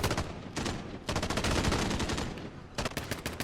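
Oden rifle fire in Modern Warfare hardcore mode, with loud, close shots cracking in several rapid bursts and brief pauses between volleys, almost no talk.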